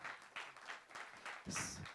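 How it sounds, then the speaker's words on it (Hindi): Applause at a song teaser launch event, faint and distant, with rhythmic clapping from an audience that swells briefly near the end. "give a huge round of applause, जोरदार तालियों से स्वागत करिए"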